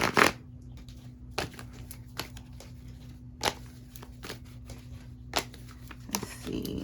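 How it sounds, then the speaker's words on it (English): Tarot cards shuffled by hand up close, a string of crisp riffling bursts and soft papery slaps at irregular intervals over a low steady hum. "we're going to pull the cards and see what comes out"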